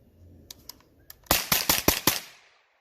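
Rapid burst of carbine gunfire from a Kriss Vector Gen 2 or Scorpion Evo 3, about six loud, sharp shots in quick succession after a few fainter clicks, fading into a short echo.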